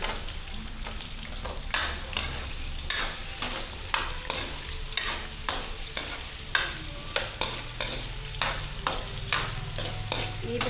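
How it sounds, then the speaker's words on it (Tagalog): Potatoes sizzle steadily in a hot frying pan while a utensil scrapes and stirs in a regular rhythm, each stroke a sharp clatter over the frying. "Prito po natin siya hanggang sa maging brown-brown,"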